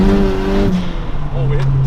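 A turbocharged Honda Civic pulls hard in third gear on a street run, its engine droning loud and close for under two seconds while a person talks over it.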